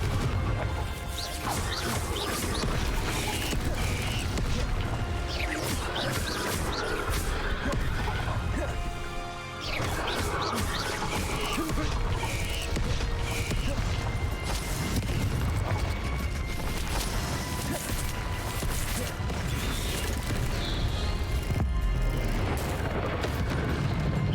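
Confringo explosion spells in Hogwarts Legacy, repeated crashing booms and impacts filling a dense, continuous battle mix with shouted voices.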